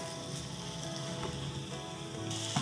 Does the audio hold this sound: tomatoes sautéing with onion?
yes